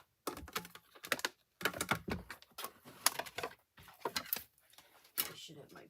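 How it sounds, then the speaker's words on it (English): A die cutting machine set down and shifted into place on a craft table for card making, a run of loud knocks, rattles and bumps in bursts with brief pauses. "I'm going to bring in my die cutting machine."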